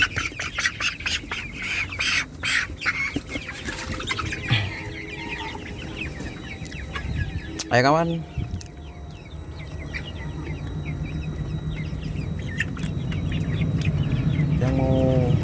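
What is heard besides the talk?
roosters clucking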